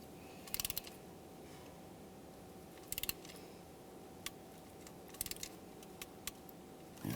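A torque wrench tightens ignition control module bracket bolts on a 1999-2006 Chevrolet Silverado 1500 4.3L V6, giving faint scattered clicks and ratchet ticks over a low steady hum.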